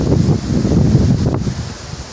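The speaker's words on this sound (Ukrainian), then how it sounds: "Дуже сильний вітер" Strong wind buffets the microphone on an open boat during a spinning-rod jig fishing session, a loud continuous low roar with gusty swells and no talk.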